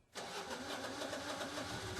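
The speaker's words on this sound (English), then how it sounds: "Put the generator's mode switch in manual and wait for the engine to start." A Guardian standby generator engine cranks and catches after a brief silence, then settles into a steady, loud running drone that continues to the end, heard alone without voices.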